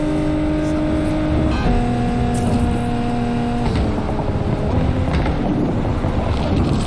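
A car accelerating in a racing video game gives a loud, continuous engine drone whose steady tones step upward as it gains speed, then blur into a rougher rushing noise.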